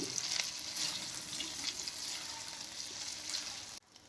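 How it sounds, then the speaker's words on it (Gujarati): Boiled potatoes and sweet potatoes are stirred into ginger and chili frying in a pan, giving a soft, steady sizzle with light scraping, close and quiet, cutting off abruptly near the end. "બટેટા અને શક્કરિયા જે આપણા બાફેલા હતા એને આમાં એડ કરી દેશું અને સારી રીતે બધું મિક્સ કરી દેશું"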